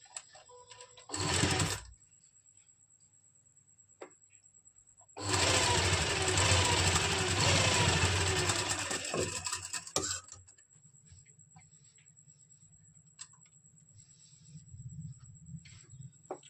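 A sewing machine stitches the button placket of a kameez in two bursts, one short and then a longer steady run, with quiet handling sounds and pauses between them.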